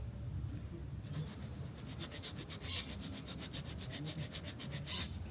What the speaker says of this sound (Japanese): このヤスリで最初表面を粗く削った方がいいらしいです。